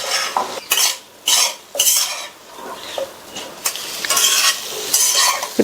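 Chilli powder, turmeric and salt are stirred into vegetables frying in a pan, with loud, close metal spoon scrapes against the pan in bursts over a soft sizzle.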